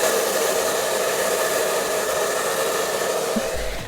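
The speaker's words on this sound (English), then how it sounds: "then I'm going to hit it with a blow dryer" A blow dryer roars steadily and loud throughout, a constant whooshing hum with no pauses, running alone.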